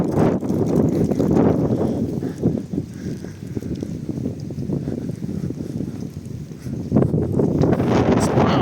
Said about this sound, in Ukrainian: з'явився цей сильний вітер